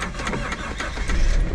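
A small Toyota kei car engine cranks and turns over at close range, a strained rhythmic churning that picks up in strength toward the end.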